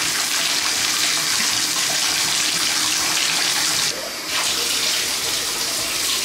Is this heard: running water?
yes